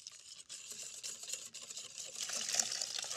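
Hot milk is slowly poured into egg yolks while a whisk beats steadily in a bowl, giving a close, continuous hissing and sloshing wash with soft rhythmic scraping.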